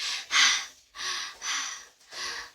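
Close, soft breaths through the nose and mouth: four breathy bursts about half a second apart, alternating sniff-like intakes with airy exhales, with no talking.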